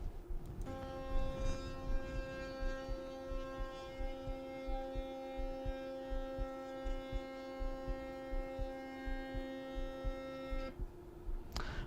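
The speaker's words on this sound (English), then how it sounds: "that move was a bit loud due to the vibrations in the motor while stepping" A stepper motor linear actuator extends ten inches in full step mode, giving a steady, loud tonal whine with buzzy harmonics and vibration that runs for about ten seconds before stopping abruptly.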